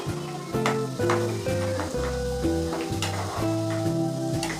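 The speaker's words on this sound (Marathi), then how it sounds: "तर आपण ही मिरची पण तळून घेतोय मस्त खमंग खरपूस अशी तळून घ्यायची आहे" Green chillies fry in oil until crisp, a constant loud sizzle broken by repeated sharp stirring clicks, heard over background music.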